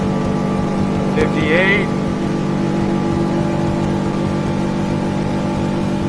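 Boat powered by an F300 outboard motor at full throttle: a loud, steady engine drone over constant water and wind rush. Someone speaks briefly over it.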